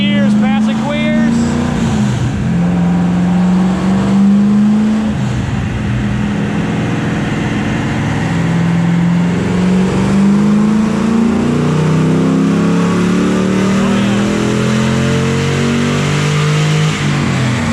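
A modified Jeep engine revs on a dyno during a horsepower run, its loud, steady drone rising through the gears in repeated sweeps, with people talking over it.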